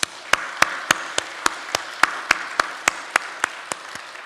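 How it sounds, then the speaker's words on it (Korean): A Korean church congregation claps together during a special dawn worship service, giving about a dozen sharp, evenly spaced claps in a steady rhythm over a soft crowd murmur. "오늘도 우리에게 새날을 주신 하나님께 감사와 영광의 박수 드립니다"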